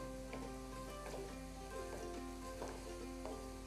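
Onions sizzle and fry in a pan while being stirred, a soft close crackle with faint rhythmic scraping strokes at a low, even level and no voices.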